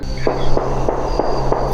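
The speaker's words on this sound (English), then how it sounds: "look at multiple gunshots" Multiple gunshots fired at a tree stump outdoors, five evenly spaced sharp cracks about a third of a second apart over a steady low background hum.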